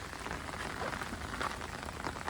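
Heavy first monsoon rain of the season in the Konkan, falling steadily and densely on surfaces nearby, a constant broad wash of drops with no voices.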